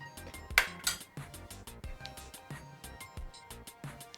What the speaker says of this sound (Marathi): छान घोटून घ्यायचं.